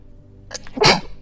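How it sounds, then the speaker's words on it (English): A single sharp sneeze, close and loud, with a short breathy intake just before it. "Sneeze always signifies truth."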